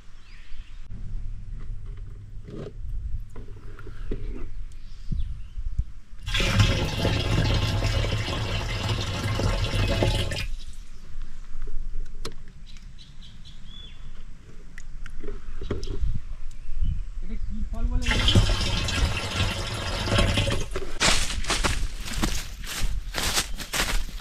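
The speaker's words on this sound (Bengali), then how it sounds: "আমি জলটা ভরে ফেলি" Water is poured into a container on an Andaman island outing, heard as two sustained, fairly loud rushing-water spells of about four and six seconds, separated by quieter outdoor background noise.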